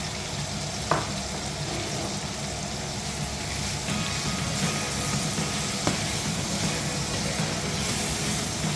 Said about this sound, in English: I stir it and now allow it to fry for a little while.